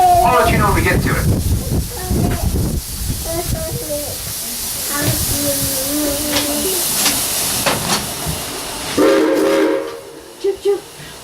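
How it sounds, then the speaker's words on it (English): A train rolls along with hissing steam and a whistle toot near the end, while people talk over it. "Yeah, the train."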